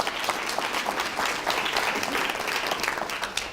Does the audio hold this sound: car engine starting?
no